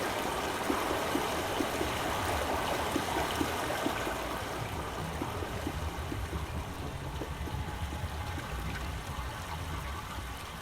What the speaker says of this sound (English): Sounds like water's now flowing through the pipe,